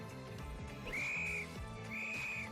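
Two clear, high whistle blasts sound in a Lego safety emote in Fortnite, each about half a second long and evenly spaced, over a bed of low background game music.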